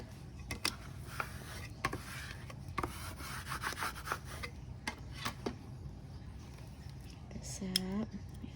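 Tape being burnished down onto a composition notebook during a craft fair organizer build: close, steady rubbing and scraping strokes that repeat throughout, with small taps and handling noises between them.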